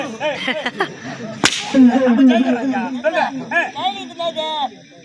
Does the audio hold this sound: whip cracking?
yes